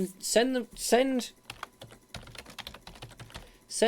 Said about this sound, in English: I'm just typing this out.